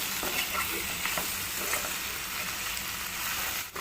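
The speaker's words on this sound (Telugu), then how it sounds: "ఇప్పుడు మొత్తం ఒకసారి కలిసేలా కలుపుకోవాలి" Spicy eggplant curry with dried fish being turned in a pan: a continuous soft sizzle with gentle scraping stirs, moderately quiet and close, no talking.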